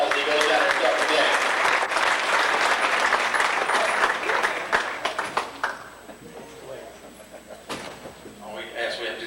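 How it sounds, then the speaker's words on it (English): Banquet audience at a 1992 champions banquet applauds ARCA vice president Ron Dreyer, dense clapping that thins into scattered claps and knocks, with voices talking over it near the end. "Give Ron Dreyer from ARCA, VP, a nice round of applause"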